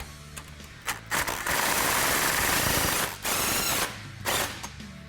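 A hand ratchet tightens exhaust bolts during a cat-back exhaust install on an F-150 Raptor, with several quick, close clicking strokes followed by longer bursts of rapid ratcheting and short pauses between them.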